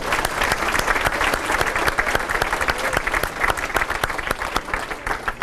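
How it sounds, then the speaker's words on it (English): An audience at a high school sports hall of fame ceremony gives steady, close, vigorous applause with crisp individual claps, unbroken throughout. "Yes, please, round of applause for them."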